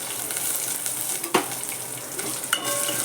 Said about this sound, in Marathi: गॅस बारीक करूनच जरा ही चांगली फोडणी शेकू द्यायची